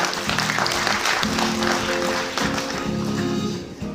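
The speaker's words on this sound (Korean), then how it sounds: "여러분 큰 박수 부탁드립니다." Audience applause in a fifth-floor auditorium at a cultural center anniversary ceremony, a sustained steady clapping that fills the hall for several seconds with a faint hum underneath.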